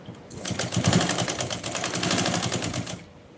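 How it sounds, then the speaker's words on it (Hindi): A sewing machine stitches the belt seam of a patiala salwar, a fast even run of close mechanical clatter lasting about two and a half seconds before stopping, with no talk over it. "आधा इंच का मार्जिन देते हुए ही हम सिलाई लगा देंगे"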